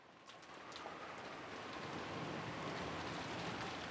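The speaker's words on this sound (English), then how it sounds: "as the sound of wind and rain gradually filled the room once again" Steady wind and rain sound effect from the Umineko visual novel, a dense continuous hiss of rainfall that swells slightly and then holds constant, with no voices.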